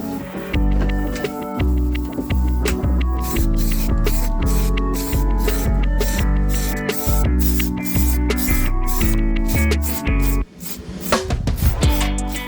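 Primer and black paint are sprayed onto homemade car side skirts for a K11 Micra in short repeated bursts, loud and close over a steady hissing background.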